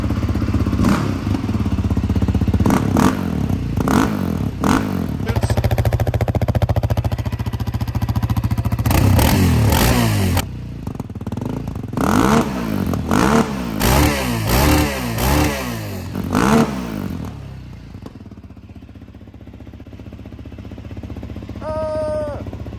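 A Yamaha Raptor 700R SE ATV engine revs in repeated bursts, barking and crackling loudly through a throaty aftermarket exhaust, then settles to a rough idle.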